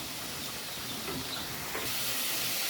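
Chicken sautéing in a pan, a steady loud hiss and sizzle that runs the whole time without a break, close and constant, with no voices.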